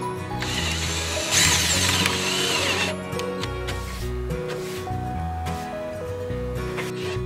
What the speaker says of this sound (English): I use a 1/8 inch drill bit to drill small holes first